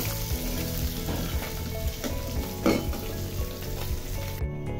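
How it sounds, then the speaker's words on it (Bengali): Small mini (bheda) fish frying in hot oil in a pan, a steady, dense crackling sizzle held close and loud throughout, with a brief flare of spattering near the middle and no voices. "অপর সাইডটাও গোল্ডেন ব্রাউন করে ভেজে আমি মাছগুলো তুলে নিব"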